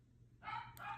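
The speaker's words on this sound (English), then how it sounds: "sorry if you can hear my dog barking" A pet dog barks indoors in a short burst of two quick yaps, moderately loud over a low steady hum, with no one speaking.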